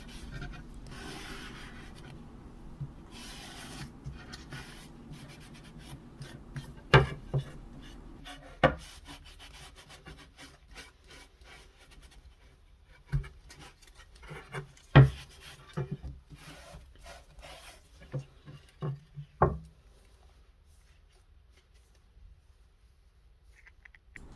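Cloth rubs excess stain off the wooden stock of an S&T Lee Enfield rifle in soft, close scraping strokes, broken by a few sharper knocks and taps against a quiet background.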